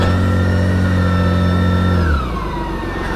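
BMW K1600 GTL motorcycle engine running in reverse gear, a loud steady hum that drops and winds down partway through, with a faint whine sliding lower afterward.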